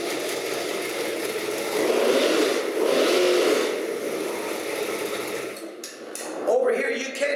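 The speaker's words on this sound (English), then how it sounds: "Again, a fine-tuned engine runs fantastic." A 408W small block Ford stroker engine with dual quads revs at moderate volume, swelling and easing in a couple of throttle blips before settling, with a brief voice near the end.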